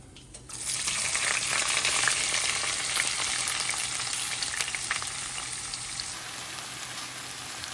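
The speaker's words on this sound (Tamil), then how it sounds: "எண்ணெயில் அப்படியே வதங்க விட்டால் கொஞ்சம் அவிஞ்சு வருவார்" Onions sauté in hot oil in a pan as Sri Lankan vegetarian cooking gets under way, a steady, close, dense sizzle that rises suddenly and holds for several seconds before easing slightly.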